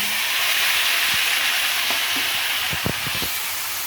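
Green onion dropped into hot oil tempered with cumin, asafoetida and turmeric gives a constant loud sizzle and hiss, with a few soft stirring knocks near the end.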